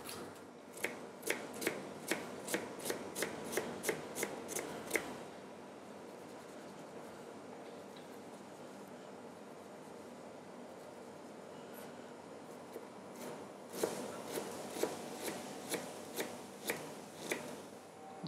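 A sweet Cévennes onion being chopped into brunoise on a board, rapid knife taps in two bursts separated by a quieter stretch, close and crisp over a low kitchen background.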